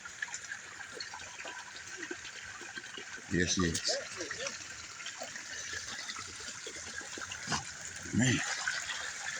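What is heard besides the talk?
water flowing out of the hillside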